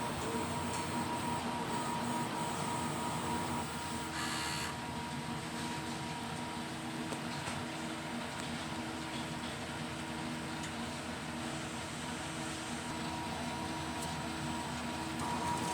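An inkjet printer runs a print head cleaning cycle, giving a steady mechanical whir and hum with a brief louder mechanism shift partway through, carrying on without any voices.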